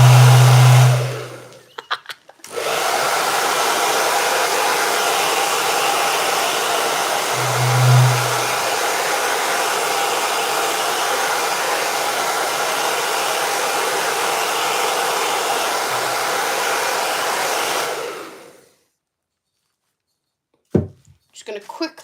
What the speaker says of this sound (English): It was the hairdryer.